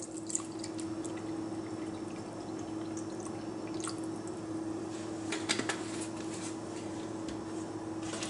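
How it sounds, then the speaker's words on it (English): Whole milk poured into a pot of crawfish corn chowder, a soft, steady liquid pour with light drips and a few faint clinks against the pot, close up over a low kitchen hum. "we're going to add in 2 cups of whole milk."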